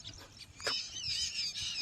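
Birds chirp close by outdoors on a morning, high thin warbling calls and a sharp chirp over a soft background hiss.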